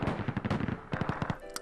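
Rapid bursts of gunfire crackle in two clusters in the video game Song of Memories, a quick rattling volley followed by a brief pause and another string of shots, loud and close.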